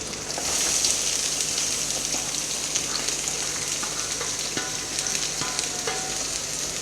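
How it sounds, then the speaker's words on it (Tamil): Onions for dal tadka frying in a pan, a steady dense sizzle with crackling pops and occasional stirring scrapes, close and continuous with no talking. "வெங்காயம் நல்லா கோல்டன் ப்ரௌன் ஆகிற வரைக்கும் ஃப்ரை பண்ணிப்போம்"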